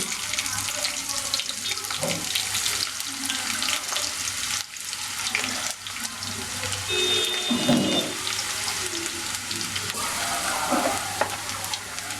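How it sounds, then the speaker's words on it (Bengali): Cumin seeds and chopped onion sizzling in hot oil for a spicy beef bhuna, a steady hiss with occasional stirring clinks, fairly faint and without talk. "এই অবস্থায় আমি একটু জিরার ফোড়ন দিব, অর্থাৎ আস্ত জিরা আমি একটু দিয়ে দিলাম। এরপরে কুচানো পেঁয়াজ দিয়ে দিব।"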